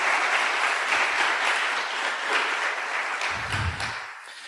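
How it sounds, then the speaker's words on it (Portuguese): A church congregation applauds together, a dense, even wash of many hands clapping at steady volume that thins slightly toward the end, with a brief low rumble near the close. "Você pode dar uma salva de palmas para Jesus por isso?"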